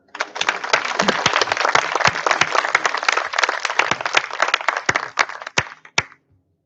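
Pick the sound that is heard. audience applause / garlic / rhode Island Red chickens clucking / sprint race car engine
audience applause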